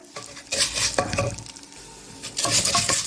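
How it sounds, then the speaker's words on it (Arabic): Vermicelli frying in ghee in a pan, stirred in bursts of scraping and sizzling strokes with quieter sizzling pauses between, close and fairly loud. "معلقه سمنه حلوه كبيره كده، واحمر بس الشعريه"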